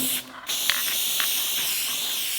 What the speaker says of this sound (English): Start spraying all the glue on our fabric all the way and on the base of the headliner here.